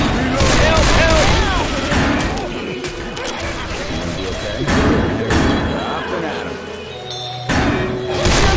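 Rapid gunfire from survivors shooting at a Charger in Left 4 Dead 2, with bursts of shots, thuds and crashes running throughout, loud and close, with people talking over the fighting.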